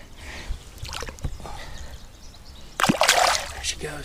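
A bass released back into a small creek splashes sharply in the water near the end, after quieter trickling and handling sounds, with close moving noises throughout.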